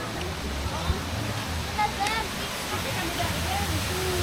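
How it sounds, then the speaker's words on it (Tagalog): Waterfall at Alico Resort and water park in San Jorge, Samar, a constant broadband rushing roar, with faint voices and distant chatter in the background. "Yung tubig nila dito ay galing sa waterfall."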